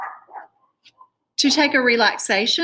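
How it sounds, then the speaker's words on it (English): Dogs bark a few times in the background of a neighborhood, short and moderately distant, before a voice begins speaking over silence. "As you can hear the dogs in the background,"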